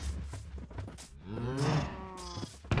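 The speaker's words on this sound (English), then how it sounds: "So I'll feed the cows, and then slaughter them" Cows mooing in the Minecraft video game: a couple of short low lowing calls followed by one long, loud, drawn-out moo, close and clear with no talking over them.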